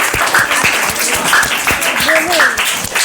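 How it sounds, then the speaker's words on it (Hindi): Classroom students applauding a classmate's correct answer, a short burst of scattered hand claps mixed with voices and chatter. "वेरी गुड, तालियां बजाइए भाई"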